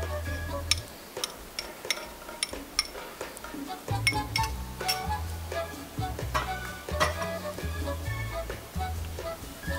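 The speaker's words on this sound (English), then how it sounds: "all the ingredients mixed up, and then soy sauce, cover it and mix it up well" A spoon stirs chicken adobo ingredients and soy sauce in a metal pot, giving irregular clinks and scrapes against the pot over a low rumbling hum, close and moderately loud.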